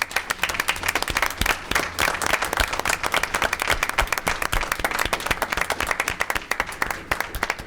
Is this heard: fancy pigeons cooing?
no